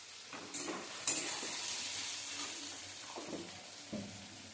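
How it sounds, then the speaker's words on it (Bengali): Sliced onions sizzle in a pan of hot oil with salt, turmeric and whole garam masala for a chicken kosha, with clattering stirring strokes over a continuous close frying hiss. "এরপর লাল লাল করে আমরা ভেজে নেব পেঁয়াজটাকে"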